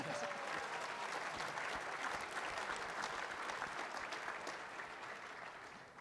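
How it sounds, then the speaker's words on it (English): A dinner-panel audience applauds with a dense, sustained patter of many hands clapping, steady at first and then tapering off slightly toward the end. "go ahead and applaud, I can tell you want to"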